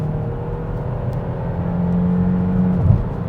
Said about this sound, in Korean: 이 중에서 엔진음은 실내로 많이 유입이 되는데